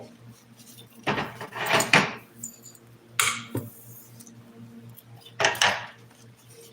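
Metal parts clink and rattle in a few separate bursts as the cutoff wheel on an angle grinder is taken off and swapped, close by, with a short exclamation from a voice.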